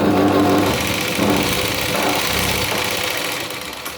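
A sewing machine stitching a double seam to join a blouse yoke whirs continuously in a loud, close, steady mechanical drone that eases slightly toward the end, with no voices.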